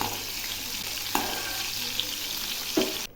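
Prawns frying in oil in a pan for a drumstick (sajne data) curry, a steady loud sizzle with a few sharp clinks and scrapes as pieces are lifted out, ending abruptly.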